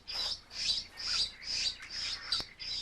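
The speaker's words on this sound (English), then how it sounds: "Young animals use a battery of persuasive signals to demand food from their parents." Hungry bird chicks beg their parents for food, a rapid series of about seven shrill, rhythmic calls repeating evenly at close range.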